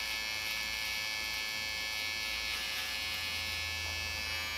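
An electric hair clipper runs steadily and close by with a continuous bright buzzing hum, held in place while hair is combed toward it during a haircut finishing trim, with no talking over the motor.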